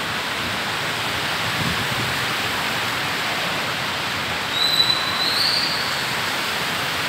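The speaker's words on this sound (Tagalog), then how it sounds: "Malabo na sa tingnan dahil lakas ang ulan." Heavy rain pours down over Manila near the Pan Pacific and Sheraton hotels, a dense, steady hiss that fills the whole stretch evenly with no voices heard.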